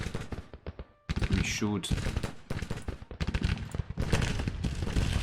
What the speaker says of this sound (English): They are firing.